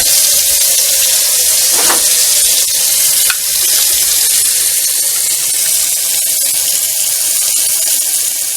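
Cold groundwater runs steadily from a tap into a sink in Pensacola, Florida, on a November day: a continuous close hiss and splash with no pauses and no talking.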